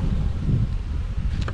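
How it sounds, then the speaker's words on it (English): Bees buzzing in a low, steady hum while being installed into a hive, fairly close and continuous, with no talk over it. "These bees want to get out."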